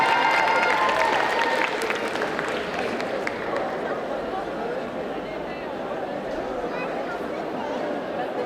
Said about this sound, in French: on applaudit très fort sa version d'Ariel